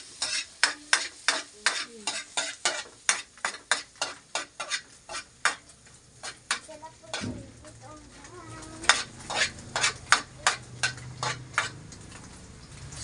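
Wangba being sautéed in a pan: a rapid series of sharp utensil taps and scrapes against the pan, then a steady sizzle of frying underneath continued stirring clatter.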